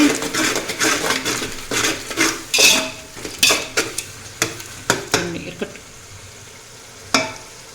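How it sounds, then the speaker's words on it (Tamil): Metal spoon scraping and clinking against a pot while mint and coriander are stirred into fish biryani masala, a series of sharp irregular clanks and scrapes at close range with faint sizzling underneath. "புதினா கொத்தமல்லி போட்டு நல்லா கிண்டிட்டு"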